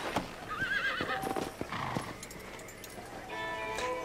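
A horse whinnies and its hooves clip-clop in the Western video game Red Dead Redemption, the neigh rising clearly over steady hoofbeats and outdoor ambience, with no talking.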